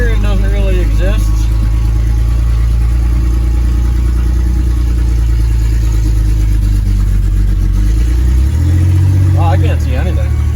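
A 1984 Chevrolet S-10 truck with no lights and weak power steering rolls along with its engine running, a loud, steady low rumble that swells briefly near the end, a voice talking over it.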